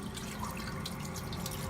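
Water flows steadily through a colonic hydrotherapy machine as a faint, continuous hiss and trickle, with no talking.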